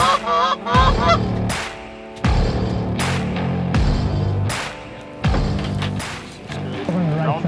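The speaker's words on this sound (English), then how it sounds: "There's the birds up." Wild geese honk repeatedly in flight during a goose hunt, with loud, overlapping calls coming in bursts through the whole stretch.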